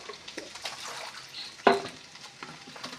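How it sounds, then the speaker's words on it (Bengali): Chow mein is stirred with Maggi masala in a frying pan, a soft steady scrape and light sizzle with one sharp utensil clank partway through, heard alone at low volume. "এখন ভালোভাবে সবগুলি মিশিয়ে নেওয়া হচ্ছে।"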